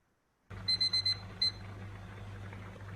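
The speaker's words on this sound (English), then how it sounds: "So when your timer goes off," A kitchen timer goes off while bagels bake, four quick electronic beeps followed by a fifth after a short pause, over a faint steady hum.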